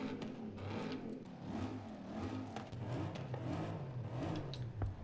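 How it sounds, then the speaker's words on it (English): Blower Bentley engine in Forza Horizon 5, a steady mid-pitched drone with rising revs and a short peak near the end, loud and continuous with no talking. "Let's take a look at the engine here."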